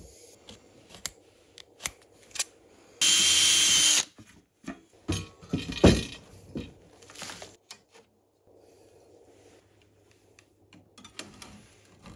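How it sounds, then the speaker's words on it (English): A power drill bores holes into metal brackets meant to take an aluminium strap, with one loud sustained burst of drilling about a second long amid scattered clicks, knocks and handling noises from the workbench. "I moved on to drilling holes into the brackets where the aluminium strap will attach."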